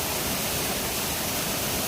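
Small waterfall on the flooded Jamda river, a dense, steady roar of rushing water that fills the whole range without a break, loud and close.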